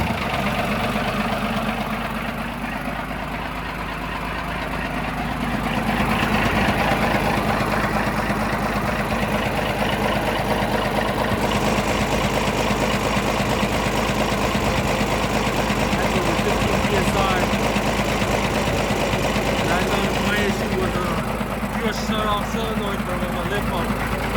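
A first-generation Cummins diesel engine idles nearby with a steady, knocking clatter that gets louder after a few seconds, and a person talks over it.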